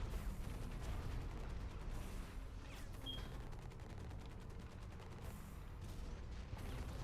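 Weapons on a combat mech in Hawken fire in a relentless rapid stream with mechanical clanking, a continuous rattling barrage at moderate level under a dull rumbling bed, with no talk.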